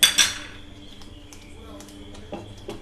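A metal lid clangs onto a pan of paneer butter masala, two bright ringing clinks right at the start that fade quickly, then a quiet kitchen with a few faint taps.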